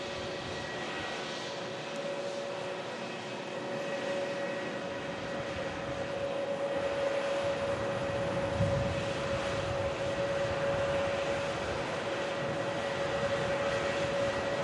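A Turkish Airlines A321neo airliner taxiing at Manchester Airport, a steady distant jet engine whine and rumble with a constant tonal hum that swells slightly as it moves, no voices.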